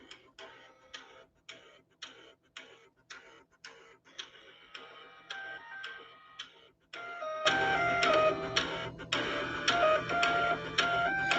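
An old dot matrix printer and floppy drives chatter in bursts, rhythmic mechanical ticking strokes repeating quickly, then a denser, louder buzzing stretch with whirring tones in the second half.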